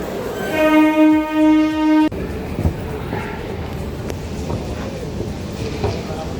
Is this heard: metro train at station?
yes